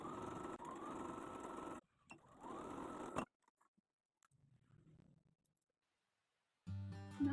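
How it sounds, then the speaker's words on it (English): A sewing machine stitches around the neckline of a gathered blouse in bursts, two steady whirring runs with a short pause between, then quieter handling noise and another brief start near the end. "And stitch all around the neckline."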